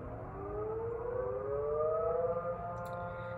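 Feasterville Fire Company's house siren sounding for the Santa Run, a steady rising wail heard from a distance, sustained and fairly loud with no talk.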